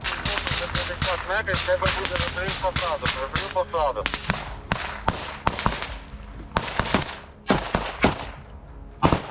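Rapid bursts of gunfire crack in quick succession, then sparser sharp shots and blasts ring out, loud and close, with faint voices underneath.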